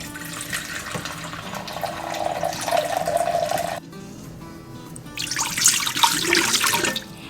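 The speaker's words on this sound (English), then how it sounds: "I'm gonna add some water to the bottom, about 2 cups" Roughly two cups of water pour steadily into the bottom of an Instant Pot, a splashing, running stream that breaks off briefly and then resumes louder, with no talking.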